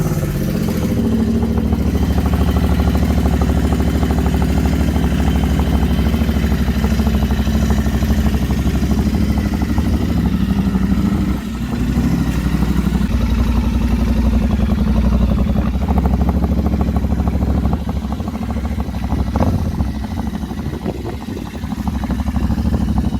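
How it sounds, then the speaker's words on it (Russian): A Royal Enfield Interceptor 650 engine idles and revs with a deep, throaty twin exhaust burble through chrome 2-into-2 pipes, loud and close, running steadily throughout with occasional throttle blips. "шикарная хромированная выхлопная система 2 в 2 с задранными зауженными концами"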